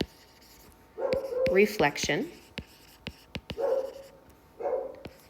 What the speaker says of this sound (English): Okay, puppies, don't bark.